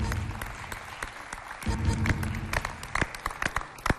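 Audience clapping as the artist Ligui arrives on a Chadian television show, scattered, uneven claps with sharp individual hits over a low murmur and some movement, picking up in the second half.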